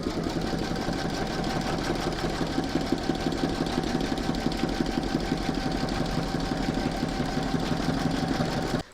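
An embroidery machine slowed right down stitches with black thread through clear vinyl on an in-the-hoop photo frame, a continuous even mechanical hum with regular needle knocks, steady and close, stopping abruptly at the end.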